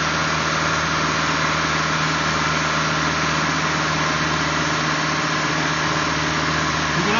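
A car engine holds a raised, steady idle up close during at-home intake cleaning, a continuous loud drone with a faint stumble, and no voices.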